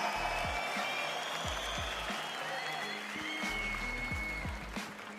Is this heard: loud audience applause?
yes